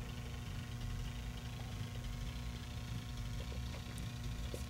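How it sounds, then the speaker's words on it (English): Car engine running in the driving game Jalopy, a low, steady idling drone with constant vibration and no talk, fairly quiet throughout. "Listen to that engine."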